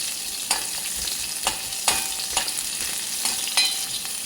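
Green peas fry in a pan over a steady soft sizzle, while a spoon stirs them in sharp scraping strokes about every half second, close and clear, with no talking.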